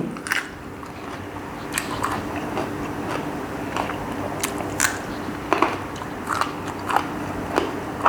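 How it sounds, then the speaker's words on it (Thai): Repeated crunchy bites and chewing of fresh vegetables dipped in Thai shrimp paste chili dip with mango, close up and steady over several seconds, with no talking. "มาลองชิมน้ำพริกกะปิ ดูนะ"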